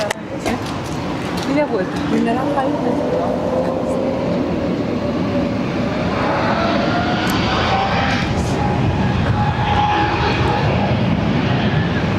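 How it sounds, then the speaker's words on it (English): An Airbus A320neo in blue ITA livery departs Barcelona airport bound for Fiumicino, its jet engines a loud, steady roar that holds for the whole stretch, with faint whine tones drifting over the rumble. "Lovely looking blue plane, departing for Fiumicino."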